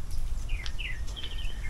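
Birds at a pond in Vitória, Brazil give several thin, rising calls that sound like mewing cats, close and fairly faint, over a steady low background rumble with no talk.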